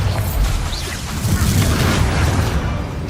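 A Bombarda explosion spell going off in Hogwarts Legacy, a heavy booming blast that rolls into a sustained loud rumble of debris and crackle lasting several seconds.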